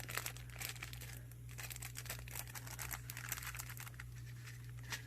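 A plastic acetate pocket is handled, crinkling in quick, faint, irregular rustles over a steady low hum, heard up close and with no one speaking.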